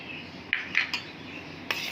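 Spoon clinking against a bowl while raisins are stirred into batter for dahi pakoriyan, a few light scraping taps near and clear with no talk.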